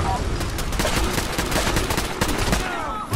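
Gunfire in the video game Fallout 4: rapid, loud bursts of automatic shots rattle continuously in a dense, close barrage with a heavy rumbling undertone, no pauses between volleys.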